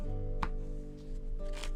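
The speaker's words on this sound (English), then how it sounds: "a few extra shuffles to ensure the cards are thoroughly mixed" A deck of playing cards shuffled by a magician, giving a couple of soft riffling bursts close by over a steady low hum.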